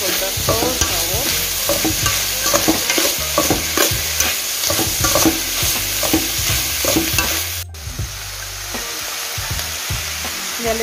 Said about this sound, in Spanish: este doradito lo voy a echar lo que es el tomate.